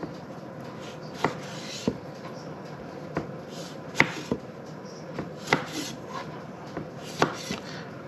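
A knife chops tomatoes into chunks on a cutting board outdoors, giving sharp, irregular taps spaced about a second apart, close and fairly quiet.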